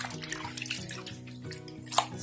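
Beef tripe rinsed by hand under running water while making the Bohol stew paklay: a steady flow of water splashing and gurgling over the offal, with one sharper splash near the end, close and moderately loud with no talking.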